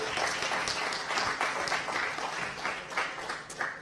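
At a university diploma ceremony in Troyes, an audience applauds students, giving steady, moderately distant clapping throughout.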